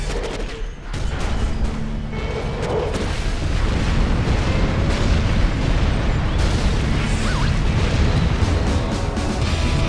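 Cruise missile strikes in the strategy game C&C Generals: loud, dense explosions and booming bursts that roll continuously, with crackling debris and rumbling impacts.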